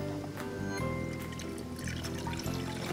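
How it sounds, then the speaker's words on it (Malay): Water pours steadily into a pot as it is filled for boiling with bicarbonate of soda, a continuous close-up splashing and trickling stream throughout. "Kita akan masukkan air."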